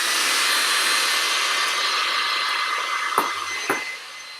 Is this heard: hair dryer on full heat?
yes